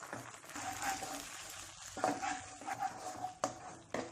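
Green chillies and curry leaves fry in hot oil with a soft, low sizzle and light crackling, heard faint and close with occasional stirring clicks.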